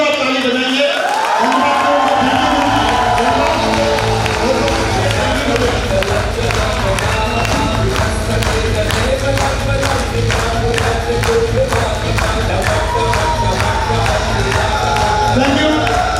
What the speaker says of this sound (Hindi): हम लोग अपनी सीट पर खड़े होकर हमारे ग्रेट माधुरी जी, श्री जसवीर माधुरी जी के हम जोरदार ताली बजाएंगे।